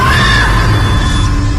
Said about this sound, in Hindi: दीपशिखा के चीखने और चिल्लाने की आवाज से उसकी मां वहां दौड़ी दौड़ी आई